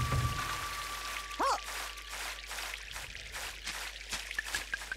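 Water pours and splashes in the WarioWare: Get It Together video game, a steady rushing trickle with a brief whooshing chirp and light dripping ticks near the end.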